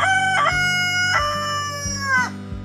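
Backyard chickens, including a black copper maran rooster, crow loudly with long harmonic calls close by, layered over steady low clucking from the flock, with no talk.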